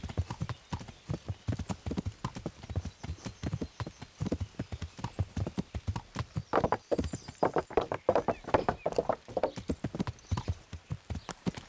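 Horse hooves clip-clop in a fast, steady rhythm as a rider travels on horseback in the video game Kingdom Come Deliverance, loud and close with an occasional whinny and no talking.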